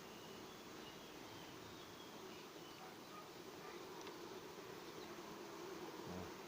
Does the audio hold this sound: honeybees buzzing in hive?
yes